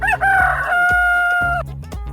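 A rooster crows one loud, sustained cock-a-doodle-doo close by, its drawn-out call held for over a second before breaking off, with a short clucking note following.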